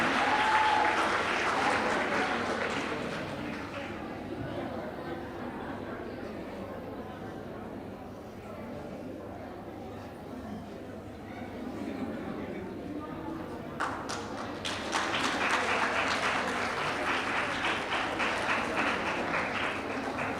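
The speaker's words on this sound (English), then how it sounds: "Come on, guys, let's give a round of applause." Audience applause at a primary school graduation ceremony, a crowd clapping steadily, easing off in the middle and then swelling again into louder clapping, with voices mixed in.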